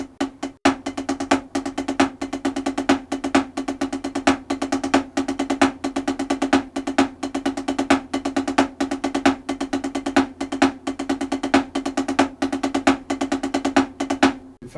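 Double stroke roll fill-ins on a drum kit, a dense stream of paired strokes punctuated by accents that outline a rhythmic phrase, played loud and close with no talking.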